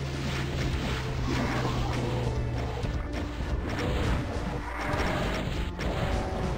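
Rocket launcher fire in Doom II, with heavy booming blasts and crashing explosions in a dense, loud, continuous barrage of game combat.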